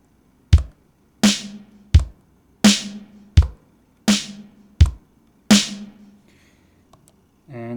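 An Akai XR20 drum machine pattern plays with alternating kick and snare hits in a steady rhythm, about eight sharp hits, loud and close, then stops.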